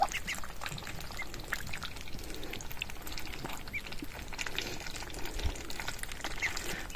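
Ducks splash and dabble in a shallow water container on a village farm, a busy close mix of sloshing, dripping and occasional soft quacks running continuously without talk.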